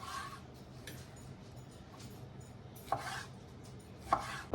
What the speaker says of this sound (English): we're just going to chop this into bite-sized pieces